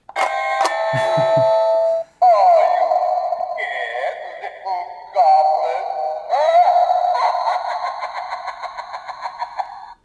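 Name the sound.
Halloween doorbell playing spooky sound effect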